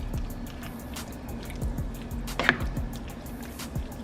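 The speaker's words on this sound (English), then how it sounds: "So we're going to stir this gravy in." Gravy stirred into a chicken stir fry simmering in a pan with Lipton onion mix, soft wet squishing and dripping with a steady bubbling undertone and a few sharper clicks of the utensil.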